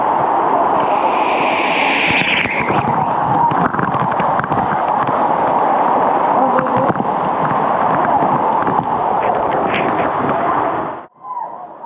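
Strong water pouring down a small waterfall at the Mini Kuttralam falls near Periyakulam, Theni, a loud, steady, close roar that fills the whole stretch before cutting off abruptly near the end.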